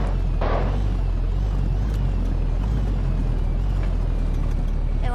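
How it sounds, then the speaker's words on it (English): A junkyard pickup truck makes a continuous low rumbling drone with a faint whine while driving out of a deep spot, steady and close with no talking. "And why does my truck sound like that, dude?"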